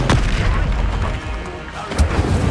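Spell explosions in the Hogwarts Legacy video game, heard as deep booming blasts with a rumbling low end, one near the start and another near the end.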